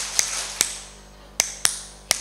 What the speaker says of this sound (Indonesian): Tepuk 3.